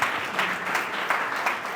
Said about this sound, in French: on peut applaudir monsieur le maire.